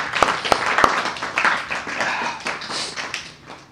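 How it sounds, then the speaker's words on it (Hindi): Scattered clapping and applause from a church congregation praising the Lord, starting with a few sharp individual claps and thinning out toward the end, with no speech. "तो इस बात के लिए तो तालियां प्रभु के लिए।"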